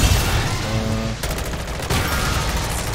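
An M16 rifle fires in MW3 Zombies: loud, fast bursts of shots, with a tonal whine early on and a clear break in the middle before the firing picks up again. No voices.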